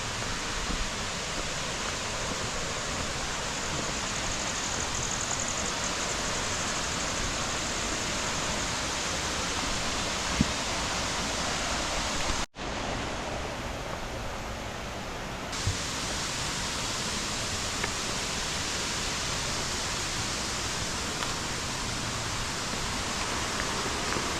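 Constant broadband roar of rushing water from Sera Ella Waterfalls nearby, steady throughout with a brief interruption midway.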